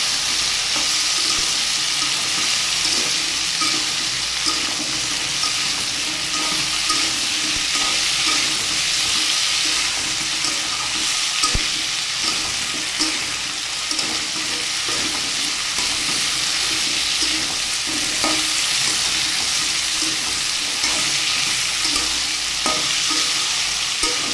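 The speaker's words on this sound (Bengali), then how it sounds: "সবজিগুলোকে আমি ভালোভাবে আস্তে আস্তে জাল দিয়ে কষিয়ে নেব।" Continuous loud sizzling of cabbage and other vegetables frying in a pan, with frequent scraping and clattering of a spatula stirring throughout, no voices.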